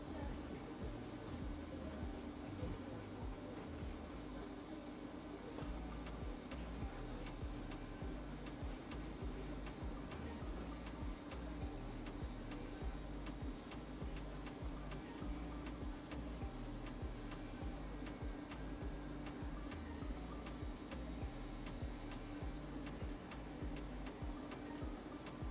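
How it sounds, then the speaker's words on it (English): An electric dermaplaner runs steadily while shaving facial hair, giving a continuous faint mechanical buzz with a fine rapid ticking texture that holds at an even level throughout. "I'm just gonna press on the button on my dermaplaner, and we're just gonna start shaving away the hair."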